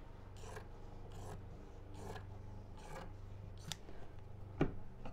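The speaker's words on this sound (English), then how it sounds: "And snip across here." Scissors snip straight across fabric for an oven mitt border, a series of six soft, close crunching cuts at a steady rhythm over a low background hum.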